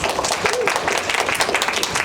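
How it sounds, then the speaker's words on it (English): A crowd claps steadily in sustained applause for participants at an English speech contest, a dense wash of hand claps with no pauses. "Let's give another round of applause to our participants."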